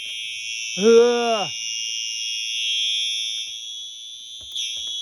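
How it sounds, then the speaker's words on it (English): A fire alarm sounds continuously inside a Menards store, a loud, steady high-pitched electronic tone, while a person groans briefly near the start. "The fire alarm's going off?"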